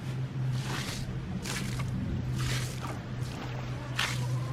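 Water pours steadily into a wheelbarrow of manure to dilute it, a continuous close splashing and trickling with a low hum underneath and brighter gushes every second or so.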